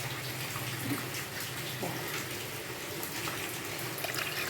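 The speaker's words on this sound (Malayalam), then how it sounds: "പുളി വെള്ളത്തിലിട്ടത് അത് ഞാൻ നന്നായിട്ട് പിഴിഞ്ഞ് വെച്ചിട്ടുണ്ട് അത് ഇതിനകത്തേക്ക് ഒഴിച്ചു കൊടുക്കാം" Squeezed tamarind water being poured over cleaned backwater fish, a steady close splash and trickle of liquid running for several seconds without talk.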